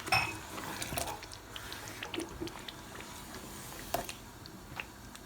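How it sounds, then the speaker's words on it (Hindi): Half a glass of water poured into a pot of potato kofta curry, with a soft liquid splash followed by faint bubbling, stirring clinks and scattered utensil taps against the pan at close range. "आधा गिलास पानी डाल दिया है मैंने"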